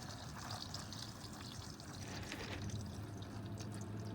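A steady, soft stream of water pours and trickles continuously out of an army truck, with a faint rushing quality throughout.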